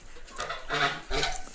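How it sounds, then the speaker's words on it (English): Hens cluck in short, close bursts in a small roofed rural yard in China where geese are also kept, with a few throaty calls over quiet background. "You can see the owner raise some geese and hens."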